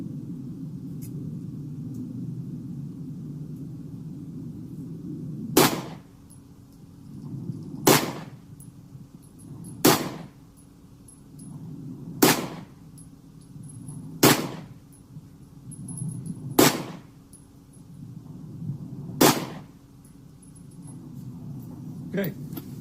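Pistol shots from a Girsan MC Hi-Power fired with support at 15 yards, seven sharp reports spaced about two seconds apart over a low steady rumble of range noise.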